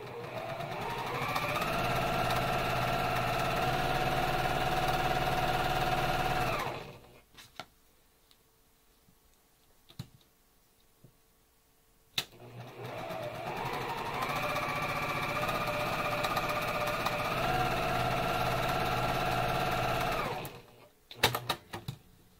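A home sewing machine running in two long bursts while stitching fabric pieces for an American 'Pride' quilt sew-along, with a steady whirring motor and rapid needle chatter, a quiet pause with small clicks between, and a few knocks at the end.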